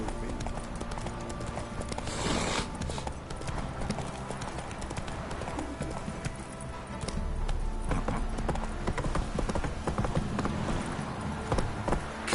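Horse hooves clip-clopping at a steady gallop in Witcher 3, a continuous rhythmic pounding close by under game music and ambience, with brief voice moments.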